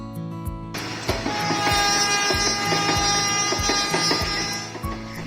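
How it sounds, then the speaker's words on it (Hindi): A train running on the tracks near the British-era Dilwa railway station amid dense forest and high hills, a loud steady rumble with rhythmic clacks of wheels over rail joints rising in close and sustained throughout. "पटरियों पर जब छुक छुक करती हुई ट्रेन मंजिल की ओर बढ़ती चली जाती है"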